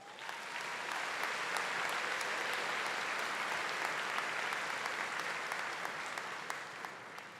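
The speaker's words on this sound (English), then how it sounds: "Let's give her a round of applause." Steady, sustained applause from a large graduation ceremony crowd, a dense wash of many hands clapping, distant and even, holding for several seconds without voices on top.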